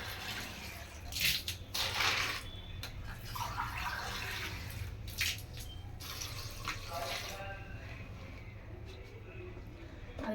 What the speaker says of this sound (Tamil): இது நான் கொஞ்சம் தண்ணி ஊற்றி அப்படியே வந்து கொஞ்சம் நேரத்துக்கு அப்படியே ஊற விட்டுருவேன்